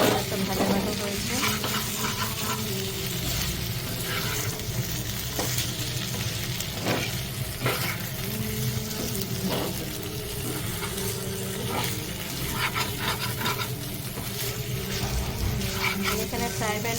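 Chicken sizzles steadily in a hot frying pan, dry-fried before any water is added, with repeated scraping and stirring strokes over a constant, close crackle; no talking.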